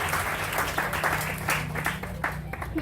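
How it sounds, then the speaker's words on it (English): Audience applause at an ISKCON temple groundbreaking (bhumi puja) ceremony, a steady wash of clapping from a crowd lasting the whole stretch over a low constant hum. "So please give yourselves a round of applause"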